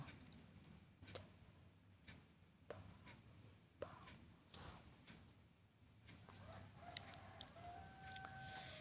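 A rooster crows faintly in the distance near the end, over a quiet background with scattered soft knocks and hiss.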